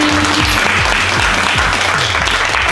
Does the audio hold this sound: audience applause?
yes